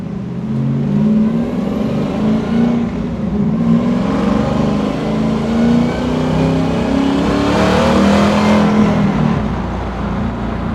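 A supercharged 650 hp LT4 1968 Camaro SS restomod revs hard with a deep, throaty Flowmaster exhaust roar that rises and falls steadily, loud and close, with no talking.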